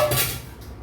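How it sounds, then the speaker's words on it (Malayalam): A large uruli cooking pot is handled, giving a brief metallic clank and scrape that rings out close by and alone. "നമ്മൾ വലിയ ഉരുളി എടുത്ത് വെച്ചിട്ടുണ്ട്."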